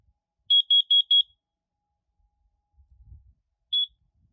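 A Kidde 3OCUDR-V smoke alarm sounds during a test: four sharp high beeps in quick even succession, then a pause with a faint low rumble, and a single lone beep near the end.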